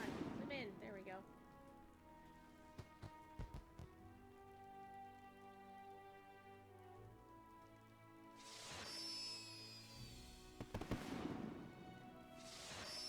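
Fireworks in the online game The Lord of the Rings Online crackle and pop over sustained synthesized background music. Scattered sharp bangs are followed by two bright whistling, crackling bursts near the end.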